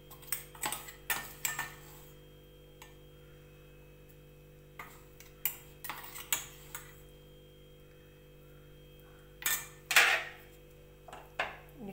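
A spoon stirs peanut powder into a lentil and onion dish in a pan, giving sparse metallic clinks and scrapes in short clusters over a constant low hum.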